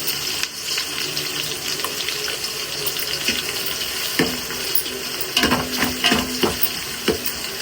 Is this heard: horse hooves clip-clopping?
no